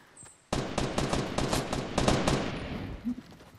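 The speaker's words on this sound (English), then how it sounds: "Can you stop shooting fucking bullets now?" Fortnite gunfire crackles in a rapid burst of close, sharp shots lasting a few seconds, then fades away, with no talking over it.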